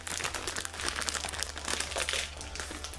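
Plastic wrapper on a brick of ramen being torn open, a dense run of close crinkling and crackling that goes on without a break, fairly quiet and with no talk.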